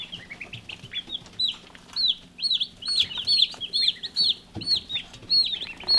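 Meat chickens on a homestead cluck and chirp in quick, repeated bursts, several birds close by making high, bright calls at a steady rhythm over a quiet background.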